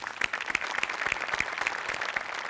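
An audience claps after a comedy sketch performance, sparse individual claps ringing out close and crisp in an uneven, lively rhythm, fairly quiet overall.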